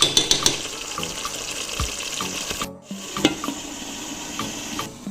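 Meat being stirred into a simmering white bean and coconut milk sauce, a sizzling bubbling bed broken by clinks and scrapes of the spoon and a brief silent gap midway.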